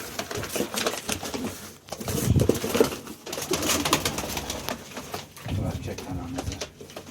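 Pigeons of a Turkish flying breed coo nearby in soft, repeated rounds, heard under someone talking with a little background clatter.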